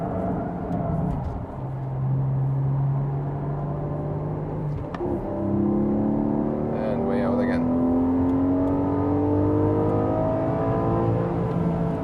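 Porsche 718 GTS 4.0 with its six-cylinder engine pulling hard on a race track, a steady rising roar climbing through the revs after a brief shift, heard from inside the car under a driver's commentary.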